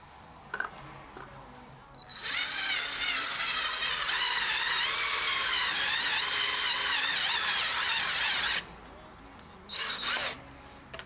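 A power drill bores a 20 mm hole during an HID headlight install, running loud and steady for about six seconds with a brief start and short bursts of tool noise before and after.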